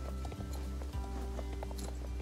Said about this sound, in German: Und dann gehen wir auch schon über in den Galopp.